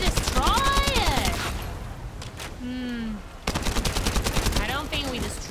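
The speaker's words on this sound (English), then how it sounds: "Stop shooting at me!" Gunfire from a shooter looter video game, a dense run of rapid shots that drops away briefly mid-clip and then resumes, with excited voices speaking over the shooting throughout.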